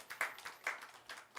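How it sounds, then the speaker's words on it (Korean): A church congregation claps in thanks and blessing at the close of a Sunday worship service, a few faint, uneven handclaps heard at a distance. "들어가실 때 감사와 축복의 박수"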